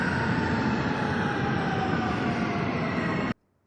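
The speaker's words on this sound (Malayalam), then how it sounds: "ഞങ്ങളെന്നുള്ളത് റിയാദ് മെട്രോയിലാണ്" Riyadh Metro train running on its line, a steady loud broadband rumble and hiss with no speech, cutting off abruptly near the end.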